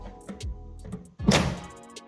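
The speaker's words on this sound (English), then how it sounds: "Drop your drawer back on, push it back, and listen." A kitchen drawer from a Wren kitchen install is pushed back in and locks onto its runners: a few light knocks, then one solid, nearby thunk with a brief rattle as it seats.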